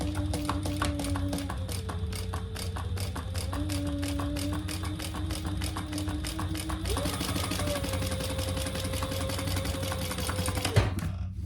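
A sewing machine top stitches a fabric hip bag, running in a steady rapid hum of needle strokes that pauses briefly, shifts pitch and resumes, then stops abruptly near the end.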